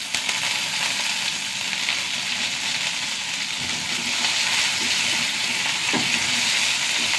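Onions fry in hot oil with dried red chillies and curry leaves, giving a steady, loud, dense sizzle that continues unbroken throughout, with a few faint stirring knocks near the end and no talking.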